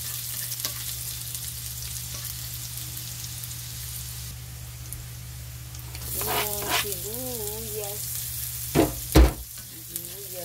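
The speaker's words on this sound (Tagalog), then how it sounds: "Mag-isa-gisa na tayo na ating sibuyas, bawang." Onion and garlic sautéing in a pan, giving a steady close sizzle throughout with a few louder clatters of the spatula near the end; a voice speaks briefly over it.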